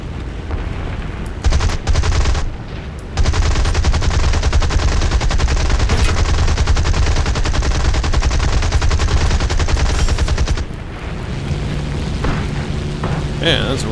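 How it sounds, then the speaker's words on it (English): A War Thunder anti-aircraft gun fires a loud, sustained, rapid automatic stream of shots over roaring engine noise, broken by a few short pauses. A voice speaks over the fire. "Man, that's one strong ass AA gun."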